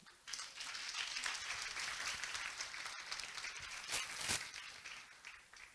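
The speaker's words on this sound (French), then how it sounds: "C'est tout ce que vous avez comme applaudissement." An audience at a conference session claps steadily for several seconds, a dense, moderately distant wash of applause that swells briefly near the end.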